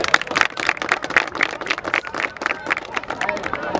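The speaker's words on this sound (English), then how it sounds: "Clap it up." A basketball team claps together in a gym, with rapid sharp hand claps repeating over talk and crowd babble.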